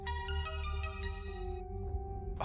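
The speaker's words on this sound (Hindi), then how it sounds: "जी, ये मेरा फोन बज रहा है।" A mobile phone rings indoors with a bright, repeating electronic melody that plays for a couple of seconds and then trails off into room noise.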